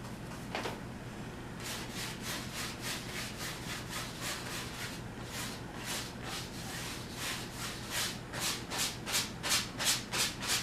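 A brush scrubs oil paint into canvas in repeated back-and-forth strokes, close and rhythmic, growing stronger and more regular toward the end.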